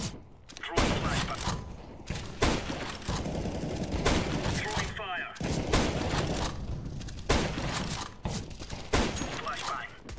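Rapid bursts of video game gunfire, including an M4, crackle almost continuously, dense and loud, with brief pauses between volleys.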